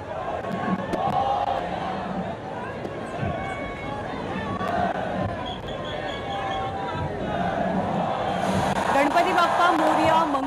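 Devotees cheer at a Ganesh immersion procession in Mumbai after flowers are showered over the idol, a loud, dense crowd of shouting and chanting voices that swells toward the end.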